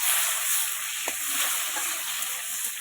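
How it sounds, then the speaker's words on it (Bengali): Chopped tomatoes and green chillies frying for aloo dum on a wood-fired stove, a steady close hiss of sizzling with a faint tap partway through, no talking. "এরপর টমেটো কুচিগুলো দিয়ে দিলাম আর লঙ্কাগুলো দিয়ে দিলাম কাঁচা লঙ্কা"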